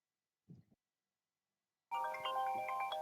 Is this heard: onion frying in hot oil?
no